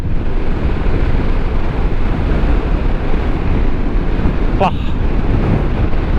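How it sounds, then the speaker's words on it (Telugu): Strong wind roars and buffets a GoPro microphone on a high Ladakh mountain road, a loud, constant low rumble with a brief higher sweep near the end. "విండ్ నాయిస్ అయితే బీభత్సం."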